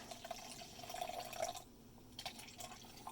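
A pale lemonade-coloured drink from a 2000 British 24-hour operational ration pack is poured halfway into a cup, a faint, thin trickle with light dripping that fades into a quiet room.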